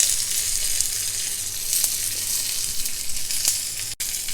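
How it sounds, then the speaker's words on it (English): Continuous close sizzling of curry leaves in hot oil with occasional crackles and a brief clatter near the end, no voices. "and a few curry leaves."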